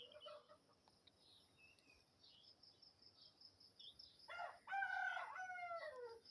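A rooster crows once in a quiet rural yard, a single harmonic cock-a-doodle-doo rising near the end, preceded by faint scattered bird chirps over a low, hushed background.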